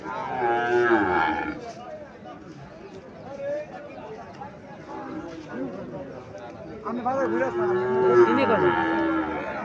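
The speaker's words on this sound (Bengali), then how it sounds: "এখানে একটা সাইওয়াল জাতের বাছুর দেখা যাচ্ছে, খুব সুন্দর একটা বাছুর।" A Sahiwal-breed calf moos several times, in loud drawn-out calls near the start and again at the end, amid a busy cattle market with people talking around it.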